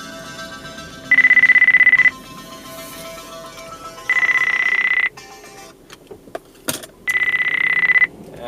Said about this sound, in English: There's my phone that I need to turn off.